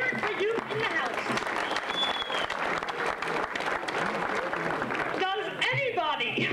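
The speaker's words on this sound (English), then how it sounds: "give yourselves a nice round of applause" Dense audience applause fills a 1980s magic convention hall, steady and loud throughout, with voices calling out over it and rising near the end.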